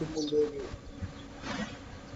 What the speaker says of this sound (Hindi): तुम्हारे पीछे एकदम चिड़ियों की चहचहाने की आवाज मुझे आ रही है